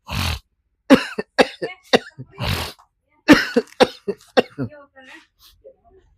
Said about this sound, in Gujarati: એટલે થોડી ખાંસી થાય છે